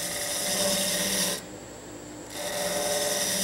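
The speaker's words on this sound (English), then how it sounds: "For this cove, I'm switching back to an even smaller gouge." A small gouge cuts a cove in spinning wood on a lathe, giving a close, steady rasping hiss that breaks off for about a second, then resumes at the same strength.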